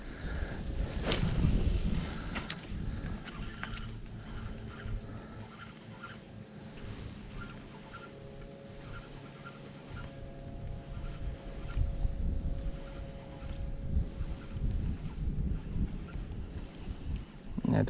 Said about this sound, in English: I don't like the wind blowing right in my face either.